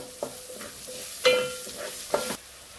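Chopped onion sautéing in oil for spicy poha, a soft low sizzle broken by a few sharper spoon scrapes against the pan, quiet and close with no talking.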